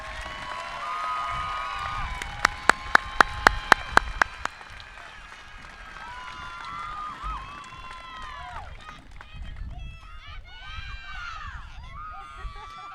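A commencement audience for a 2022 Strongsville City Schools graduation breaks into applause and cheering, with a few loud sharp claps near the start, then a scattered crowd murmur and voices as it dies down.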